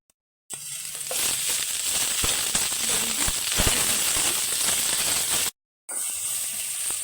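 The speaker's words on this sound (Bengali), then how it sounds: "বেগুনটা একটু ভাজা ভাজা হয়ে গেছে" Eggplant frying in hot oil in a pan gives a loud, steady sizzle close up, broken by a few soft pops and cut off briefly near the end before resuming.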